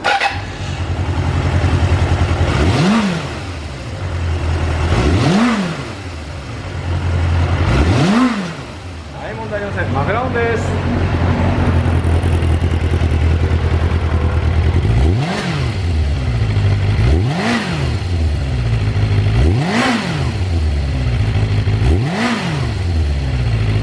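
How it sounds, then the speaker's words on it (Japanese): A Suzuki GSX400 Impulse motorcycle, model GK79A, is revved repeatedly from idle, seven sharp throttle blips rising and falling in pitch with a steady idle burble between them, close and loud. "はい、ではね、エンジンの吹き上がりいきたいと思います。"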